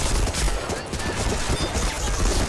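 Gunfire in Medal of Honor: Rising Sun during a co-op Fall of the Philippines mission: dense, continuous shooting and crackling bursts fill the whole stretch at steady loudness, with no clear voices over it.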